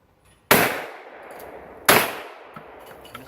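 Two shotgun shots fired at a sporting clays doubles station, each a loud sharp bang about 1.4 seconds apart, followed by a ringing decay and faint outdoor background.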